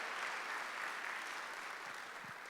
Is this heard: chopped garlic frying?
no